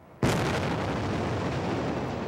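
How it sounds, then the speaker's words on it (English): A test explosion of a demolition charge at the Kingdome stadium: a single sudden, loud blast followed by a long, rumbling roar that fades only slightly over the next two seconds. "After this test explosion"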